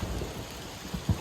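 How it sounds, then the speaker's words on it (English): Heavy rain pours down as a dense, steady hiss with a few low thumps in it. No one speaks. "it has just started pouring rain"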